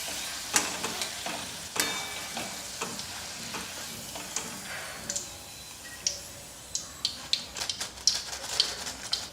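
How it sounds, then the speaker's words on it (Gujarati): Potato wafers frying in hot oil over a medium flame, a steady sizzle and bubble punctuated by sharp crackles and pops that grow busier toward the end, close and clear without voices. "આ વેફરને આપણે મીડિયમ ફ્લેમ પર તળીને તૈયાર કરવાનું છે."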